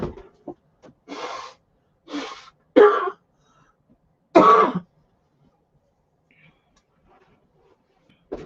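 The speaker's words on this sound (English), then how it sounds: "I got to blow my nose" Several short bursts of forceful nasal blowing and snorting in a finished basement, close by, separated by quiet pauses, with a louder final blow.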